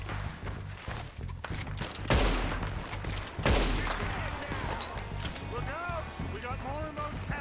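Gunfire from the Red Dead Redemption 2 video game, with two louder shots standing out amid ongoing game sounds and a few scattered quieter shots, heard under light talk.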